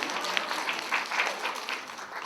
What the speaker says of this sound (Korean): 멀리서 같이 오신 리사에게도 큰 박수를 보내주시기 바랍니다